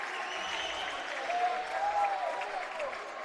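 A college basketball crowd in an arena cheers and applauds after a two-handed dunk, a steady wash of clapping and voices swelling slightly in the middle, heard from a distance.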